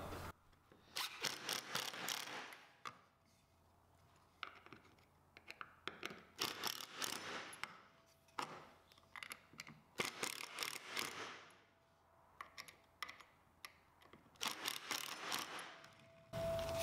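Lazy susan turntable hardware being tightened with a screwdriver, giving a series of close ratcheting, scraping mechanical bursts separated by short pauses, with no talking.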